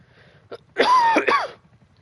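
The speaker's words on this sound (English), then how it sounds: "you might hear me cough" A single short, harsh cough from a sick person, close to the microphone, preceded by a faint throat sound and followed by quiet.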